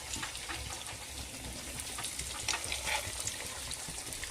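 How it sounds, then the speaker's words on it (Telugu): Chandrakantulu sweet pieces sizzle steadily while deep-frying in hot oil, a soft, even crackle and hiss heard up close with no voices. "ఇలాగా ఆయిల్లో ఫ్రై చేసేయాలి బోత్ సైడ్స్, అంతే."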